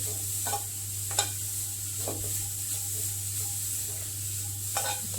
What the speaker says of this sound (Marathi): आता हे गाजर थोडंसं परतवून घ्यायचं